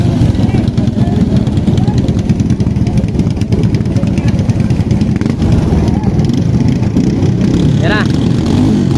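A freshly overhauled racing boat engine runs at a steady, throbbing rumble, loud and close, with people talking faintly in the background.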